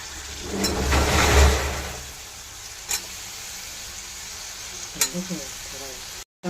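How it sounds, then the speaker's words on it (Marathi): Eggplant and potato with masala sautéing and being stirred in oil in a pan, a loud hissing sizzle with scraping stirs at first, settling into a softer steady fry with occasional clinks. "त्यामध्ये वांग बटाटा घालून घेतलाय. आता छान परतून घेऊया आपण."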